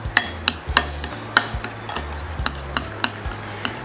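Dinakdakan tossed with vinegar and lemon in a bowl: a close run of sharp spoon clicks and taps against the dish at an uneven, brisk pace, with soft wet mixing between strokes and no talking.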